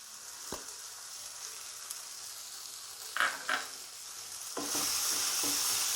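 Ground masala with cumin, pepper, coriander and turmeric is stirred and fried in a pan for an egg pepper masala, giving a steady close sizzle with a few scraping stirs midway and a louder hiss near the end.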